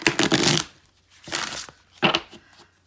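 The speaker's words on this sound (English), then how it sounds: "And then these to shuffle are really easy." Three quick bursts of papery riffling, close by, as a tarot deck is shuffled, separated by brief pauses.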